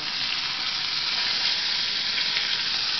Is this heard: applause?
no